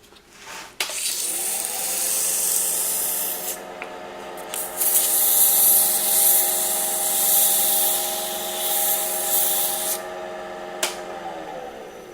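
A wooden salt cellar box spins on a woodturning lathe while sandpaper works its surface, giving a steady, continuous hissing rub over the lathe's hum for most of the stretch, with brief shifts in pressure and a short pause near the end.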